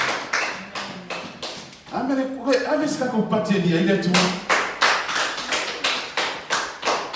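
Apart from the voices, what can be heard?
congregation clapping in praise of God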